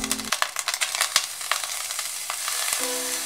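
Steady, crackling sizzle of ginger-garlic paste frying in hot oil, with scattered spatters and a few utensil knocks, close and continuous.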